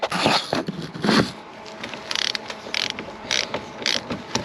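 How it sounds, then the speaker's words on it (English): A ratchet tightens a 10mm battery terminal bolt on a Silverado, quick bursts of close clicking ratchet strokes separated by short pauses. "Tighten that bolt for a 10mm"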